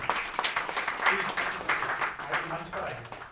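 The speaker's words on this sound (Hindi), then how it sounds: "बहुत बहुत तालियों से स्वागत कीजिए" Audience at a writers' and cultural gathering applauds to welcome the chief guest, steady moderate clapping that continues alongside someone speaking over a microphone.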